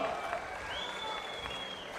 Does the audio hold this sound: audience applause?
yes